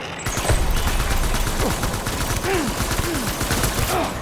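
Rapid bursts of gunfire crackle in Death Stranding, a loud fusillade of overlapping shots with sharp whizzing ricochets scattered through it, continuing without pause.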